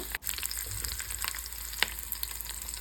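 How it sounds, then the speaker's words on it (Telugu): Curry leaves fry in hot oil for a jackfruit seed curry, giving a steady, close sizzle with small crackles and a few sharp pops, and one brief clatter near the start. "కొద్దిగా కరివేపాకు, కొద్దిగా వేగిన తర్వాత"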